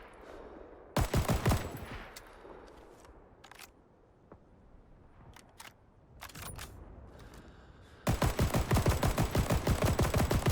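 Semi-automatic rifle fire in the game Rising Storm 2: a rapid burst of sharp, loud shots, then scattered single cracks, then another dense string of shots near and loud.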